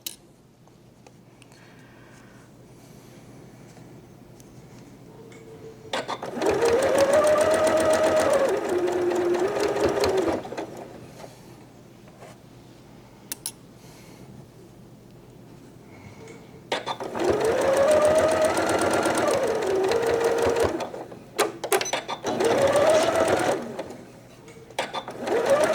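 A sewing machine stitches a quilt block in two sustained runs of steady, close, loud whirring, separated by quieter gaps of handling, the second run broken by a short pause.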